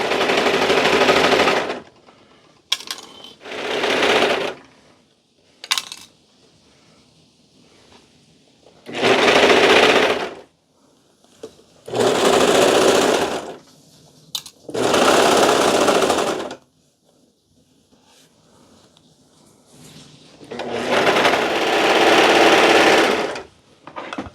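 A sewing machine stitches orange fabric in repeated bursts of fast, loud, close-up whirring, each run a couple of seconds long and separated by quiet pauses.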